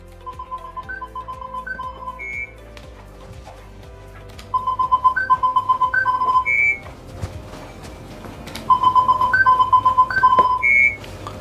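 Three bursts of rapid electronic beeping in a repeating tonal pattern from an OKM Evolution NTX metal detector, with short quiet gaps between them.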